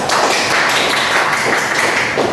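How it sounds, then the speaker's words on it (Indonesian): Applause from a classroom group during Arabic teaching practice, a dense, steady patter of hand claps that fills the whole moment without a break. "Beri aplaus untuk Wela."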